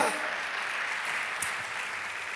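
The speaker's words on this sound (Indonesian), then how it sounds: "Tepuk tangan bagi Allah kita." A church small-group congregation claps together in a continuous, fairly loud burst of applause that stays even for a couple of seconds, with a brief louder clap or knock midway.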